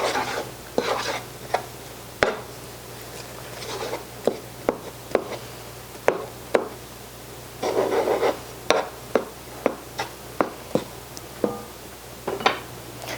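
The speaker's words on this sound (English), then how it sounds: "these marshmallows are starting to melt here. Let me just mix them in with the melted butter." Melting marshmallows are stirred into melted butter in a pot, close-up scraping and sliding strokes repeating in an uneven rhythm with sharp ticks of the utensil against the pan.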